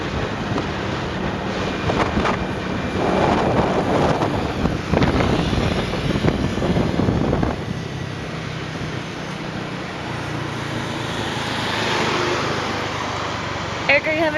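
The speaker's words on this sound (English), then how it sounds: "So we rented a motorbike, and this is what it's like driving in Thailand." Riding a rented motorbike on roads in Kanchanaburi, Thailand, with strong, steady wind roar buffeting the microphone and engine rumble beneath, a voice talking over the noise.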